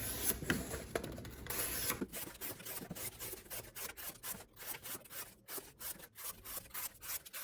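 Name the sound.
Benchmade Tengu knife cutting single-wall cardboard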